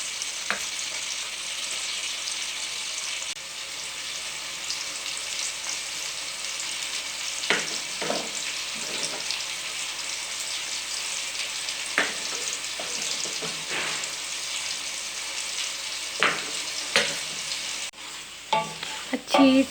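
Masala with cumin fries and is stirred in a pan: a bright continuous sizzle runs throughout, punctuated by repeated spatula scrapes and taps, with louder clatter near the end and no talking.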